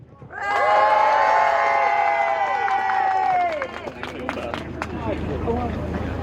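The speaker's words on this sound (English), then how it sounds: "after 3, if you like my cheer, scream his name, whatever, but we need to hear the loudest noise for the winner to win" At the NEC Gardeners' World Live and Good Food Show, a crowd voting for a contest winner bursts into loud, high screaming and cheering for about three seconds, then trails off into scattered shouts and claps.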